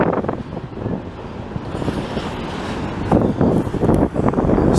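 A CP freight train rolls past in Montreal on a windy afternoon, its steady rumble and rail noise buried under heavy gusting wind buffeting the microphone.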